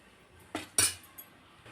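A metal spoon scrapes and clinks against a pot of mutton salna curry a few times, two sharp strokes close together then a lighter tap, with no talking.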